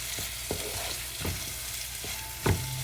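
Egg curry with coconut milk stirred in a pan, a steady sizzle under repeated scraping strokes of a utensil, close and moderately loud with no talk.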